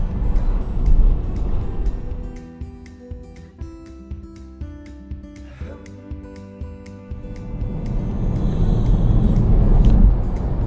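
A car's tyres rolling over a newly resurfaced country road near the A46 in Nottinghamshire, giving a steady loud road roar that dips in the middle and then swells back up, with no talking.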